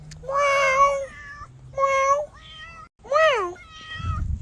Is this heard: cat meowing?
yes